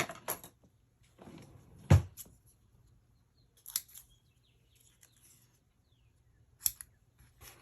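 Scissors cutting paper for a scrapbook page layout, a few separate crisp snips spaced out over several seconds, close and clear against a quiet background.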